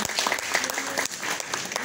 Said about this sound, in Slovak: pošlíme mu potlesk do Bratislavy